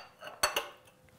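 Ceramic crème brûlée dishes are set into a baking dish, giving two quick, bright clinks close together, near and clear with nothing else around them.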